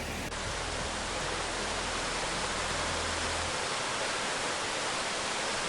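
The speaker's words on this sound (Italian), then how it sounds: "è una bella cascatella, bella da vedere" A small mountain waterfall in Switzerland, a steady loud broadband rush of falling water, close and constant, with no voices.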